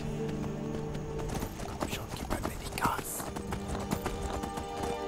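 Quick clip-clop of horse hooves at a gallop in the video game Skyrim, close, with a whispery voice faintly speaking over it.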